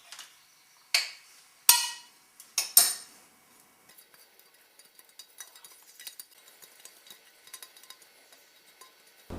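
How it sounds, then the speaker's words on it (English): Metal utensils clink and scrape against a standard 9 by 5 inch loaf pan while it is greased, four sharp clattering knocks close up at the start, then a scatter of faint light ticks and taps with no talking. "grease a standard 9 by 5 inch loaf pan"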